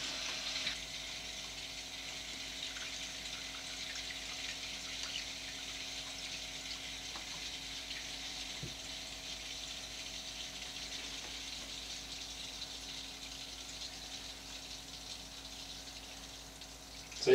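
Water running into a PC liquid-cooling loop on an Aerocool Avenger gaming build, a steady, fairly quiet hiss of gushing flow with a faint pump hum underneath, continuing unchanged for the whole stretch.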